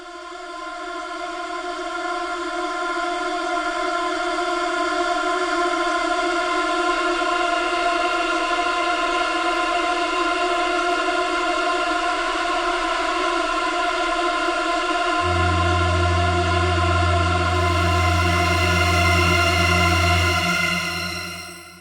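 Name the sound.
sustained drone preset from the Shamanic Voices bank for Pigments synth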